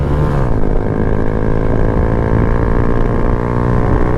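A 2020 Honda Grom engine with a cheap aftermarket exhaust idles loudly and close by, a steady buzzing drone after a quick blip of throttle at the start.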